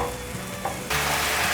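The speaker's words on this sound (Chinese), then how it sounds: "放入100cc 的过滤水，快速翻炒。" Sauce sizzles in a wok, made with 100cc of filtered water, white pepper, lemon pepper salt and sugar for a vegan dish. A steady hiss swells suddenly into a loud, dense sizzle as it is stir-fried, close and without talk.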